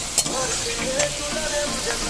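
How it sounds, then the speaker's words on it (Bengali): Potatoes frying in a pan of oil for chicken khichuri, a steady close sizzle with soft crackles and a few brief clinks of stirring. "আলু ভাজা বসিয়ে দিয়েছি"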